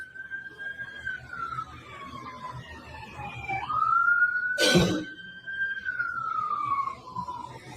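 A police siren wails in slow rising and falling sweeps at a distance, briefly overlaid by a loud broadband whoosh, likely a passing vehicle.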